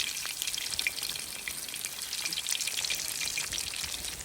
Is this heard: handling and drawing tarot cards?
no